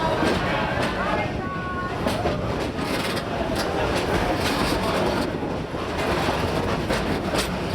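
Steady rumble and rattle of a theme-park train at Busch Gardens, Tampa, Florida, continuous and loud throughout, with a faint boarding announcement voice briefly mixed into the clatter.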